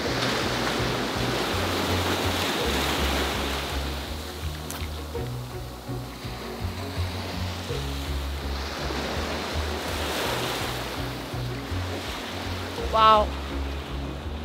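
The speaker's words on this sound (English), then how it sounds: "It almost looks like a tropical beach, even though this is Alaska." Waves wash steadily onto the beach at Clam Gulch, Alaska, a broad continuous roar of surf with wind, while a person briefly exclaims near the end.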